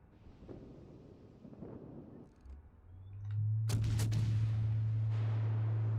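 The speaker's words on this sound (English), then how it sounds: "Look at these broadsides." Warship broadside gunfire in the video game World of Warships Legends: scattered distant thumps, then a sharp loud salvo blast that rolls into a sustained deep booming roar.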